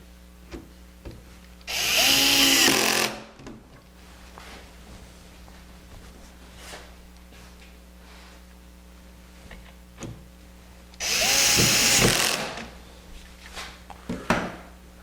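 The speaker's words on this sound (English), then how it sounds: "I'm just going to install" A power drill drives two screws into a router lift mounted on a router table top, giving two loud whirring bursts about nine seconds apart, with small tool clicks and handling noises between them.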